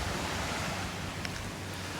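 Ocean waves wash steadily onto a beach in Krabi, Thailand, a continuous close roar of surf mixed with wind buffeting the microphone.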